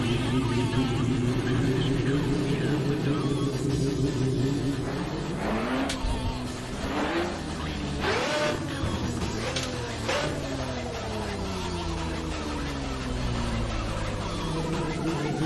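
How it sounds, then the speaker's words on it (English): Lamborghini V10 engine sound in the Assetto Corsa racing game, revving through rising and falling pitch sweeps with gear changes, steady and fairly close, no talking over it. "So it's got the Lamborghini V10 sound on it."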